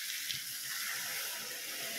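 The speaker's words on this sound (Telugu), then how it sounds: "వాటర్ వేస్తాను," Water poured into a pan of dry fish and egg curry, making a steady soft splashing, gurgling hiss that runs unbroken from start to finish, with no talking.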